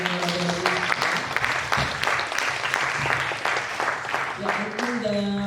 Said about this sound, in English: We give the last applause to Baan Noorg.